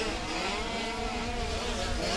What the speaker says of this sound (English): We're watching the 88 kart just rip through the centre then of Barry Heinrich.